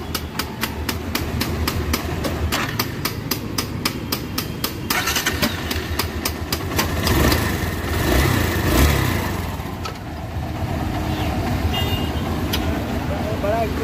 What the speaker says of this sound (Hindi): एक बार मैं एक्सलेट करता हूँ